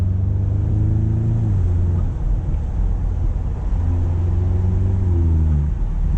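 Audi S3 Convertible engine droning steadily while driving, a loud low hum that rises in pitch twice as the car accelerates, with no talk over it.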